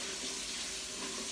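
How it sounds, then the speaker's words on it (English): Jackfruit rinsed under a running kitchen tap: a steady, close hiss of flowing water splashing in a sink, continuous throughout, with no talk. "we're going to rinse this off. Rinse it really well."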